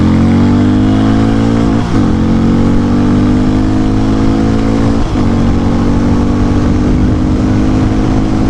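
A Harley-Davidson X440 or Hero Mavrick 440 motorcycle launches hard from a standstill and accelerates, its engine loud and close with rising revving tones broken by two quick gear shifts.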